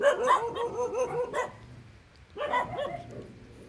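Several dogs bark in loud, rapid clusters nearby, a dense burst of yaps, a quiet pause, then another round of barking.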